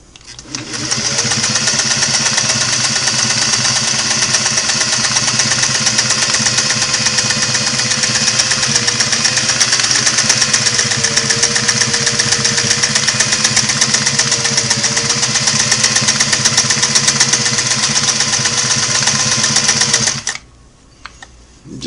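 A restored Singer Model 503A sewing machine sews a fine stitch, running steadily for about twenty seconds with a loud, even mechanical whir and rapid ticking, then stops.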